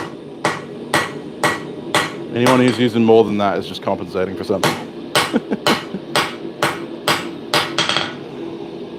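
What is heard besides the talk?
hammer striking hot steel while forging a lap-welded socketed chisel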